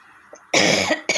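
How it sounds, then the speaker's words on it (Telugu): Two sharp, close coughs from pungent dried-chili fumes, a longer harsh one followed by a short second, after a quiet moment. "ఆ పచ్చడి ఘాటుకి ఇక దగ్గు కూడా వస్తుందన్నమాట."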